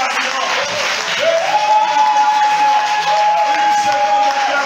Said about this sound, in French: Encore 3 secondes d'acclamation.